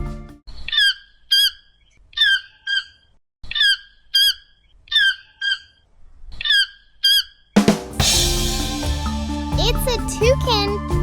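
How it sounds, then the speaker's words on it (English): Toucan calling in jungle treetops: a series of repeated croaking, squawking calls in short rhythmic bursts, fairly close and clear, before a denser burst of jungle music and noise takes over. "It's a toucan."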